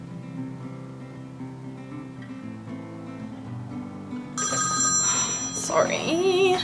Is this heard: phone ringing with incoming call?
yes